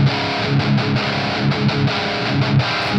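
Distorted electric guitar played through a Blackstar BEAM on a Mesa-style Rectifier amp preset, chugging rhythmic riffs with tight gated stops between loud, dense chords, close and alone.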